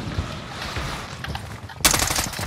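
Gunfire in a fast-paced shooter video game's resurgence map, a few muffled shots followed by a sudden loud, rapid automatic burst near the end.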